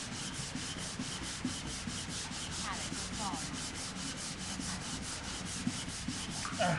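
Steady rubbing and scraping of a scrubbing brush or sander across a wooden floor, a continuous close, even texture with small knocks, no talking.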